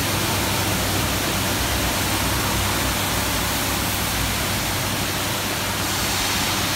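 A car wash blasts high-pressure water onto a vehicle, a dense, steady hiss of spray that stays loud and unbroken throughout.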